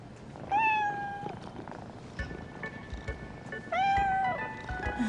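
Two clear cat meows, each drawn out and slightly rising then falling, with a soft purring texture and faint background noise between them.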